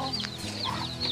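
A farmyard chicken on a family farm near Arapiraca, Alagoas clucks in a quick run of short, close calls, with no talk over it.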